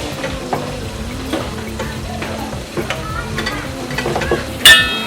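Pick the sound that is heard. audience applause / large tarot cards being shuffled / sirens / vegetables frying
vegetables frying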